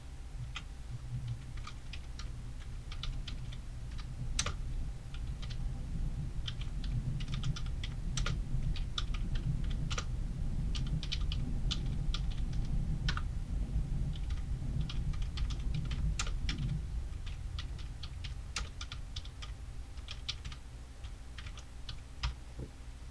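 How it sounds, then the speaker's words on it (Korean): Song lyrics are typed on a computer keyboard in a steady patter of quick, close clicks and taps over a faint low room hum, with no talking. "노래 가사 두 줄을 타이핑하시고요"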